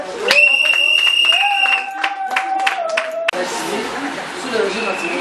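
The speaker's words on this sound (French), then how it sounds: "On applaudit s'il vous plaît." A crowd at a civil wedding ceremony breaks into applause, the dense, steady clapping beginning partway through after a stretch of sustained tonal sounds and voices, then continuing to the end.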